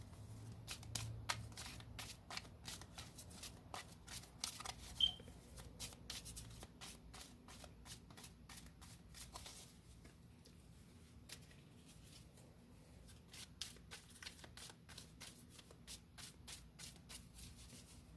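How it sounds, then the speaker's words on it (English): Tarot cards being shuffled repeatedly in quick riffling bursts, close and crisp, with soft rustling between shuffles and no talking. "The cards just want to be shuffled today."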